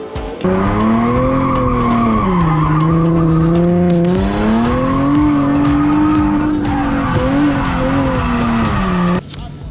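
Drift car at a Drift Arena Cup round, engine howling loud and near with shifting pitch, then sustained tire squeal and skidding rasp over the revving until it cuts off abruptly.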